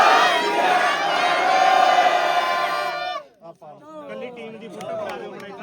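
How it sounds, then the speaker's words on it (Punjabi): A crowd at a hockey tournament gathering bellows a Sikh slogan in unison, a loud sustained chorus of voices that cuts off abruptly, followed by scattered talk. "ਇੱਕ ਨਾਰਾ ਲਾਉਣਾ ਬੋਲੇ ਸੋ ਨਿਹਾਲ"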